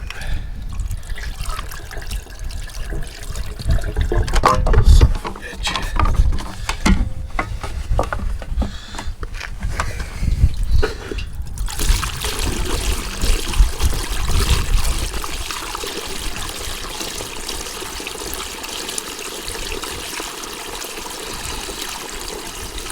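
Fuel glugs and trickles from a partly filled 20-liter jerry can into a vehicle beside the Alaska Highway, a continuous pouring stream with a person swearing briefly at the start, followed by a quieter, steadier flow.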